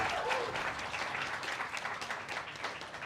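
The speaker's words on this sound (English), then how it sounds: "Give a huge round of applause guys." A crowd at a college creators' conclave gives a round of applause, steady dense clapping heard from a distance and fairly faint throughout.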